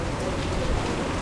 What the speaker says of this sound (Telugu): ఈ వానజల్లులు